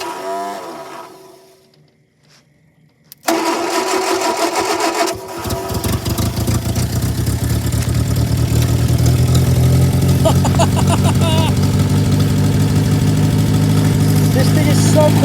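A 1950s Ford Towmotor forklift engine catches after a moment of near silence, then settles into a steady, fairly loud idle that holds throughout, with voices exclaiming over it.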